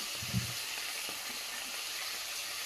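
Spices fry in a pan during sautéing, a faint, even hiss of oil with one brief low knock of a utensil near the start.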